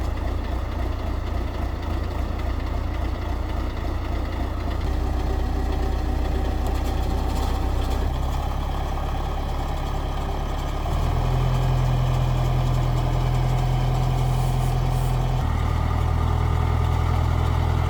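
A tractor engine drones steadily and loudly nearby on wet ground, its low pitch shifting a few times as it runs low on fuel.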